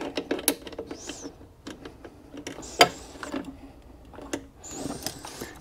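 Ratchet with a 10 millimeter socket tightening a bolt while a hitch wiring harness is installed on a 2023 Honda Passport Trailsport, a series of sharp close clicks and ticks in uneven bursts.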